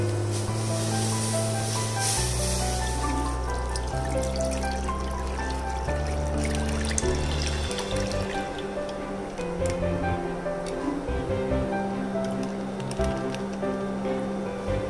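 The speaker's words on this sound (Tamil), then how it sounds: "பாலை ஊற்றிட்டு" Milk poured into a heated pan for palkova gives a steady trickling, hissing wash that continues unbroken.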